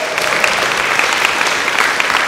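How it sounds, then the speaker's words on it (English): Dense, steady applause from a large audience at a company of the year competition in Tallinn, Estonia fills the whole stretch, loud and continuous without any talking. "Give her a round of applause."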